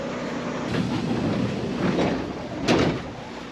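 Japanese commuter train running along an above-ground line, a steady rumbling roar with rail noise throughout and a brief louder swell near the end, heard from inside the carriage.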